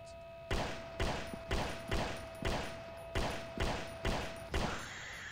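Shotgun in the horror game Slenderman Must Die firing nine punchy blasts in a quick, evenly spaced rhythm, loud and up close over a steady background hum.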